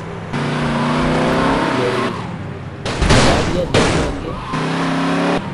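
Car engines rev loudly in the GTA video game, with several rising and falling accelerations and a burst of harsh noise in the middle, and a voice talking over the sound.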